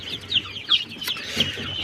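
High, thin peeping chirps from young chicks, repeated in quick irregular bursts close by.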